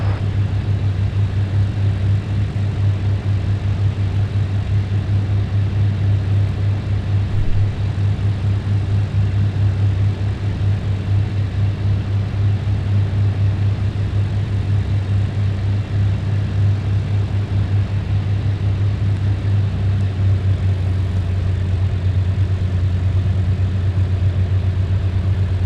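Steady idling propeller aircraft engine from Flight Simulator 2000, a constant low drone holding on the runway at JFK for the full stretch, no talk over it.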